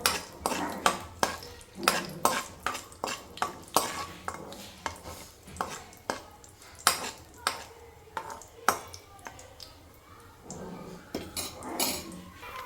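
Cashews frying in a pan for carrot halwa, stirred constantly so a spoon clatters and scrapes against the metal in quick irregular knocks over a soft sizzle, close and continuous without speech.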